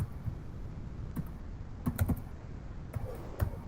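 Scattered keystrokes on a computer keyboard while working in a terminal, a handful of soft, irregular clicks over quiet room tone with no speech.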